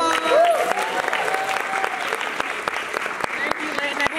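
Crowd clapping at a university art showcase, steady and fairly close throughout with a whoop and voices mixed in.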